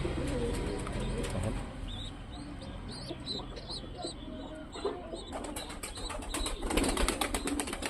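Pigeons, including a Shirazi female feeding her chick, give soft low coos amid faint chirps and rustling, with a rapid fluttering patter in the latter half, all fairly quiet and close.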